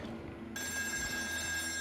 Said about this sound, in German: Oh, da ist das Telefon.